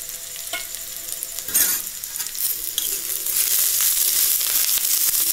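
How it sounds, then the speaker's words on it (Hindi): Chopped capsicum hits browned onions in a hot pan, bringing a bright crackling sizzle under repeated spoon stirring and clatter, close and fairly loud throughout. "प्याज ब्राउन हो गए, अब इसमें डालेंगे कटी हुई शिमला मिर्च।"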